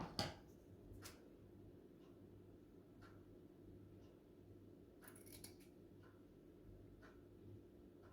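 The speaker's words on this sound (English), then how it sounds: "I'm going to need to cut it more because I'm getting puckering down the bottom there." Scissors snip through fabric for a sewn spring-summer outfit, a few quiet, separate crisp cuts spaced over a faint, still room.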